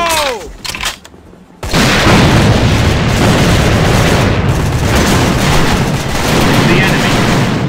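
Grenade explosion in the online shooter A.V.A. Alliance of Valiant Arms, a heavy close blast that swells into a long, sustained roar of battle noise after a brief quiet gap.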